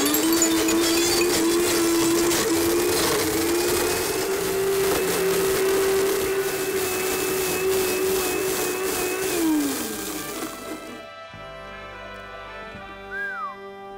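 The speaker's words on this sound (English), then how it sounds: "We're going to take care of it the Blendtec Total Blender way." A Blendtec Total Blender grinds up a plastic vuvuzela, its loud motor roar carrying a steady whistling drone for about ten seconds before winding down and cutting off, leaving a quieter rattle.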